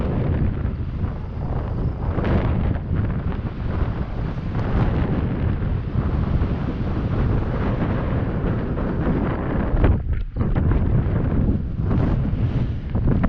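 Strong prairie wind roars and buffets the microphone continuously, a loud rumbling gust that barely lets up for the whole stretch.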